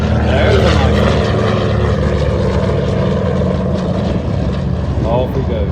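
A propeller airplane drones steadily overhead, loud and continuous throughout, while people talk beneath the engine noise.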